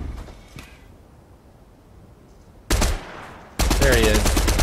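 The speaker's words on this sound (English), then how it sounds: "Oh, he's shooting at me." Gunfire in a Fortnite Chapter 2 Season 3 fight comes in two loud bursts, a short rapid volley and then a longer sustained one, close by, after a quieter stretch, and a voice is audible over it.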